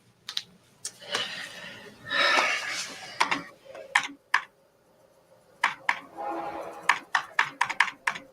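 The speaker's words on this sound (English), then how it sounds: "Just use the keyboard." Keys clatter on a computer keyboard in quick bursts of typing, separated by short pauses, with a voice talking quietly between some of the bursts.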